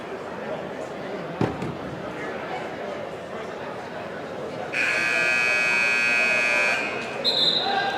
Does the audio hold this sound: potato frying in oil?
no